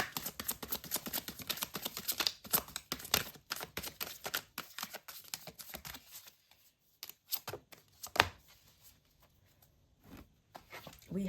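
Tarot cards being shuffled by hand, a rapid flurry of papery riffling snaps, close and soft, breaking into scattered taps and a pause before resuming.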